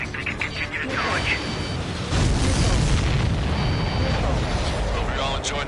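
Explosions and booming blasts in the Ace Combat air-combat game, a steady loud rumble of detonations that swells heavier midway and continues with radio chatter voices over it.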